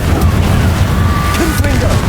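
A fiery Incendio spell is cast in Hogwarts Legacy, a dense, rumbling burst with crackling booms that fills the whole short moment amid a busy battle soundscape.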